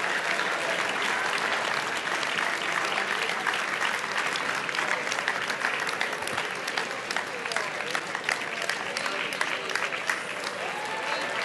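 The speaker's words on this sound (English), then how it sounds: "Come on, give them a hand clap." Church congregation applauding during a Holy Spirit service, sustained loud clapping from a large gathering with voices and cheers mixed in throughout.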